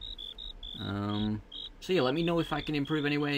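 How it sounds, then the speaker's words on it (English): Rapid, high-pitched cricket chirps pulse steadily in short bursts, continuing faintly beneath a person talking. "There's some crickets there."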